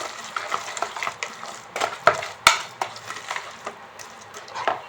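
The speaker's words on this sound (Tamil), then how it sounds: "சேர்த்து இப்போ இதை நல்லா மிக்ஸ் பண்ணிக்கலாம்" Chickpea flour batter for an eggless omelette, seasoned with cumin and asafoetida, being stirred and mixed in a bowl, with soft scraping and sloshing strokes and a few sharper clinks of utensil against the bowl.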